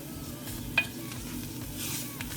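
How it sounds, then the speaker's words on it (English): Gravy mixture with flour is stirred slowly in a pan before beef broth goes in, a soft continuous scraping with a faint sizzle and one brief clink, steady and close, no talking. "So just stir that slowly"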